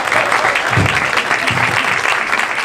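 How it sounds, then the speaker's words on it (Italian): Audience at a book presentation applauding steadily, dense even clapping filling the room at close range and holding at a constant level without pause. "Applaudite la GAF."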